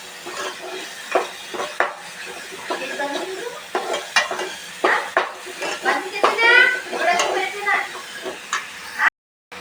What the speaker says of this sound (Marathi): इथं मस्तपैकी आपल्या मसाल्याला तेल सुटणं चालू आहे कारण की आपण कच्चा मसाला बनवला आहे त्यामुळे आपण याला चांगला परतून घेऊ